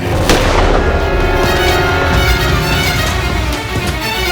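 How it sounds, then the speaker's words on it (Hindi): Loud, dense booming gunfire rolls on continuously as a gunshot sound effect, heavy and close with overlapping blasts and no talking. "इसके जाने के थोड़ी देर बाद ही गोली चलने की आवाज आई"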